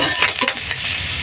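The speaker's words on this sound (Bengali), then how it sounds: "তেল দেওয়ার পরে দেখো এখানে আমি ফোড়নে কাঁচা পেঁয়াজ, শুকনা মরিচ এবং তেজপাতা দিয়ে দিলাম।" Raw onion, dried chilli and bay leaf hit hot oil as a tempering for a bottle gourd, potato and hilsa dish, giving a brief, steady close sizzle with light stirring clatter.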